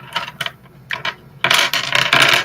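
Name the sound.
dice being rolled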